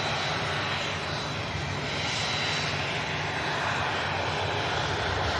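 A Lux Aviation Embraer Phenom 300 business jet rolls for takeoff at Manchester Airport, its engines giving a steady, broad, unbroken roar that holds at even loudness throughout.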